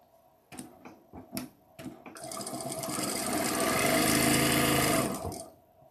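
A sewing machine stitches white quilt pieces: a few short starts and clicks, then a steady, close, continuous whirring run of about three seconds that stops abruptly.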